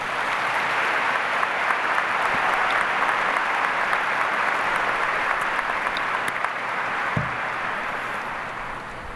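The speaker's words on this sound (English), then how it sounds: "let's give all of our supporters a warm round of applause" Sustained applause from a graduation audience fills the hall, a dense, steady wash of clapping at close range that holds for the whole stretch and eases slightly at the end, with no speech over it.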